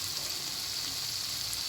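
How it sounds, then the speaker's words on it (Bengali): Spice masala frying in oil over a medium flame for chana masala, a steady close hiss of sizzling that stays even throughout, no voices. "মিডিয়াম ফ্লেমের পরে এই মশলাগুলোকে কিছুক্ষণ কষাবো, যতক্ষণ না এর থেকে অয়েল রিলিজ হয়ে যায়।"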